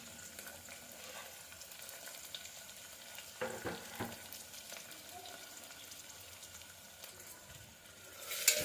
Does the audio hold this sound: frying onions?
yes